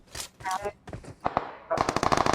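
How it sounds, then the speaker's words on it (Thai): Gunfire in the mobile battle game PUBG Mobile on the Erangel map: a few scattered shots, then a rapid automatic burst near the end, moderately loud with some game noise between. "ยิงกันอยู่ฝั่งนี้เห็นปม"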